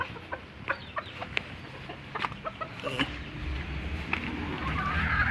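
A hen clucks while laying eggs on a small Filipino chicken farm, with short scattered clucks and sharp calls over a rustling background that grows louder toward the end.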